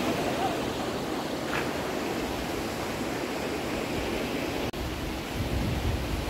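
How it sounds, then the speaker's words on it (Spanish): The Burate river in Boconó, Venezuela, flows in a steady, loud broadband rush that stays constant throughout, with only a brief dip near the end. "Les presento el río Burate, aquí en Bocono, este otro sitio."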